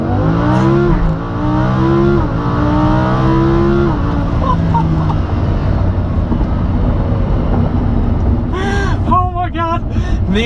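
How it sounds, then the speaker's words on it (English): A Lamborghini Huracan launches hard under launch control, its engine roaring loud and close as it climbs through the revs, with rapid gear changes and sharp rising pulls, then a brief crackle near the end. "activate launch control so you can hear the ridiculous sound of the Huracan"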